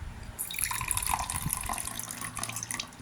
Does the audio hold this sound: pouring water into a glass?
yes